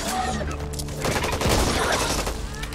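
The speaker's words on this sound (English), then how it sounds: "Who's shooting me?" Gunfire in the co-op shooter Back 4 Blood rattles off in a rapid burst of shots at the player, mixed with other game noise, over a few seconds.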